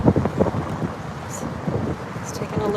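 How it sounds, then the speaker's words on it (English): Gusty wind buffets the microphone on a road median, with rumbling low-frequency blasts that rise and fall throughout, loud and close. "So, it's quite windy though on this median"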